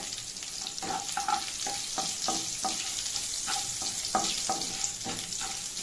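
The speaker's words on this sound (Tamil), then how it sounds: "கொஞ்சம் வதக்கி விடணும்" Steady hiss of garlic frying in a hot pan, with irregular scrapes and clinks of a utensil stirring throughout.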